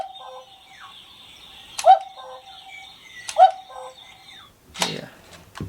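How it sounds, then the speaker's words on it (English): A wooden ROKR cuckoo clock sounds two separate two-note cuckoo calls about a second and a half apart, clear and close in a quiet room, followed by a brief rustling noise. "And of course more of the cuckoo."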